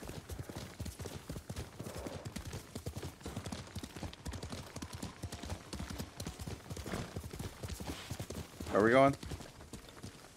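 Horse hooves clip-clop steadily in the samurai game Ghost of Tsushima, a continuous rhythmic gallop under a voice talking, with a brief louder burst near the end.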